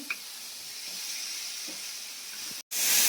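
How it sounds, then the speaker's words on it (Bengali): Chicken sautéing with spices in a pan for a chicken chop, a soft continuous sizzle and hiss close by, with a brief sharp cut near the end followed by a louder burst. "চিকেনটা দিয়ে মশলাটা ভালো করে কষে নিই"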